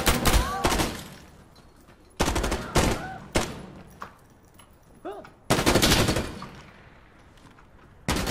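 Semi-automatic gunfire in the video game Insurgency: Sandstorm, with loud close shots in separate bursts, each a sharp crack and a short ringing tail, spaced irregularly across the moment amid faint game ambience.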